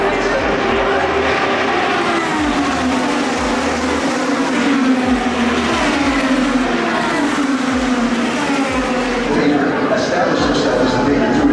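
An IndyCar race car at the Indy 500 runs a hot lap, a loud continuous engine roar with rising and falling pitch sweeps, heard alongside crowd noise and voices.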